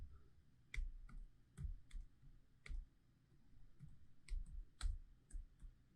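Keys on a computer keyboard tapped one by one in sparse, irregular clicks, very quiet and close, with no talking.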